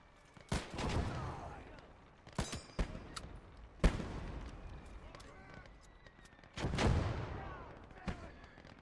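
Mortar rounds firing in a war video game, several heavy booming thumps spaced irregularly with rumbling tails and mechanical clanks between them, alongside game dialogue.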